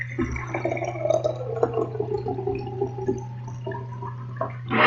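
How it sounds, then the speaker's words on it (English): Water poured into a glass jar during a simple kitchen experiment, a steady splashing fill that runs for several seconds under a constant low hum, with a brief louder gush near the end. "So I'm going to fill this up with water."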